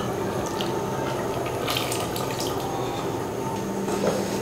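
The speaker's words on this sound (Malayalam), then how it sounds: "ഇനി ഈ തേങ്ങയുടെ അരപ്പ് കഴുകി ലേശം വെള്ളം കൂടെ ഒഴിച്ചു കൊടുക്കാമേ" A little water, used to rinse the ground-coconut paste bowl, is poured into a green gram coconut curry, a continuous close splashing trickle with a brief brighter splash midway.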